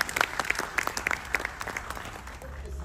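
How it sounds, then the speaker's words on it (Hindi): Theatre audience at a national theatre festival in Chandigarh claps before a Hindi play begins, scattered sharp nearby claps over a wider bed of applause that gradually thins and fades. "तो आप सब तैयार हैं नाटक के लिए, तो जोरदार तालियां बजाइए।"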